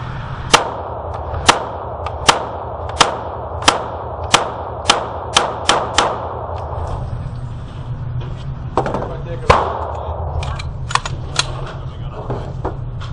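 Glock pistol fitted with new sights fires ten rounds, sharp loud cracks in a steady rhythm with roughly half-second to one-second gaps, the last shots more irregular, with light room noise between them.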